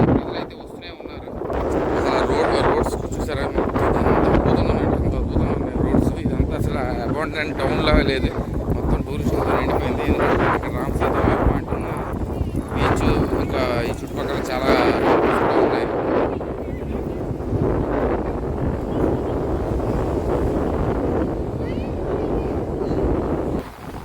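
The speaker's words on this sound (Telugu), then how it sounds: "గాలి విపరీతమైన గాలి" Strong coastal wind at Dhanushkodi near Rameswaram, a loud, continuous roar and buffeting across the whole stretch, steady and near with gusty surges, with voices talking over it.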